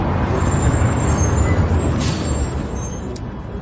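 A bus idles close by with a steady low engine rumble and a faint high whine, then a brief sharp hiss near the end.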